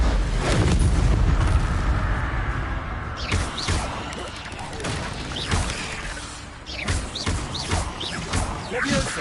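An Incendio fire spell explodes in the Hogwarts Legacy video game, giving repeated heavy booms and crackling blasts layered over continuous loud combat noise and a rumbling low end.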